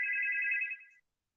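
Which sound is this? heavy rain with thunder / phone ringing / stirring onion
phone ringing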